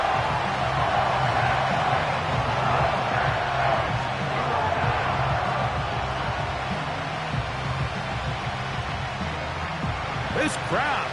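A packed football stadium crowd roars steadily through a third-down play, a dense, continuous wall of noise that stays loud for the whole stretch, with commentary voices blending in underneath.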